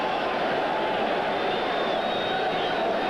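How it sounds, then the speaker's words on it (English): A football stadium crowd at a Jets at Buffalo game: a steady, broad roar of cheering that fills the stands, continuous and distant, with no break. "Well, this crowd is back into it"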